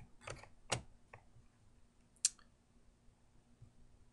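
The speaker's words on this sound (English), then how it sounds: "go ahead and click save" A computer mouse clicks quietly to save a file in lighting-sequencing software: a few soft, sharp clicks spread over several seconds, with one crisper click near the middle and a low steady hum beneath.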